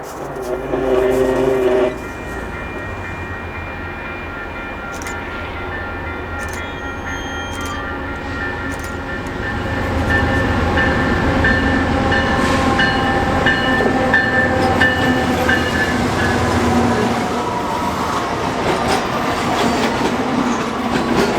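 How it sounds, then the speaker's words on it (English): Westbound Canadian Pacific coal train led by three AC4400CW locomotives near Revelstoke: steady loud rumble of engines and rolling cars with clickety-clack of wheels over the rails, growing heavier as the train passes close by, no voices. "a westbound coal train led by 3 AC-4400 CWs showed up"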